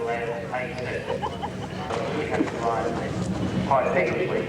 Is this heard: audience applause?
no